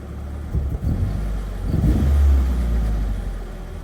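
A Nissan 240SX engine idles, then is revved twice, the rise uneven and rough as it sputters under throttle, close and fairly loud with no talk.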